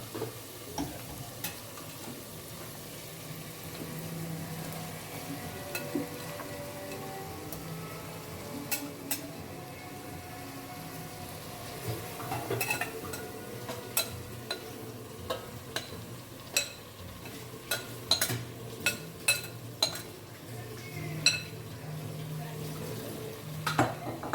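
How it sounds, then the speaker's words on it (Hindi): Marinated jackfruit stirred into softened tomatoes in a pan for kathal biryani, giving a steady low sizzle with scattered scrapes and clinks of a spoon against the pan, with sharper stirring clatter in the second half. "अब इस स्टेज में हम डालते हैं मैरिनेट किया हुआ कटहल।"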